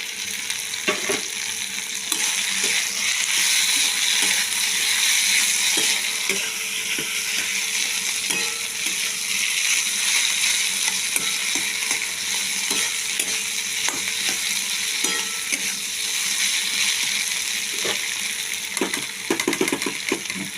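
Ingredients fry in a pan for flattened-rice pulao, a loud, continuous sizzle with scattered clicks and scrapes of stirring throughout, no voices.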